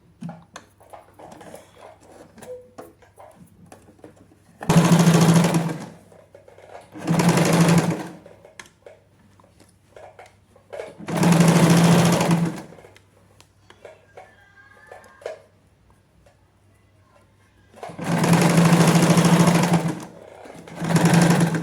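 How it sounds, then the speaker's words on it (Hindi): A sewing machine stitching a zip onto trousers runs in four loud close bursts of a second or so each, separated by quiet pauses. "तो अब हम यहां पर स्टिच लगाएंगे।"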